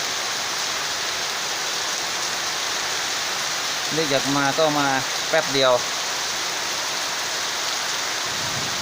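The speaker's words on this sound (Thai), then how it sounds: "มาดูบรรยากาศฝนตกกันนะครับ" Rain pours steadily with gusting wind in open countryside, a dense even hiss throughout, while someone talks briefly partway through.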